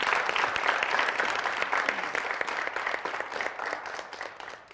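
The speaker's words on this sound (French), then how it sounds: "Merci beaucoup d'applaudir pour cela." Steady applause from an audience at a Valentine's Day show, even and sustained at moderate level, gradually tapering.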